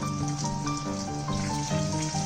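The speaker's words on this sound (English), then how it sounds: "So that's about 2 minutes of the frying" Pieces of coated chicken 65 fry in hot oil, giving a continuous bubbling sizzle heard up close and fairly quietly throughout.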